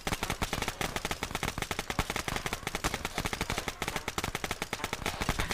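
Rapid automatic gunfire in Arma 3 keeps up a dense, steady rattle of closely spaced loud shots throughout, with no pauses and no talk.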